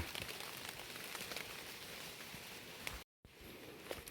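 Rain falls steadily outdoors, a faint, even hiss of patter with scattered louder drops, briefly cutting to silence before the soft downpour resumes.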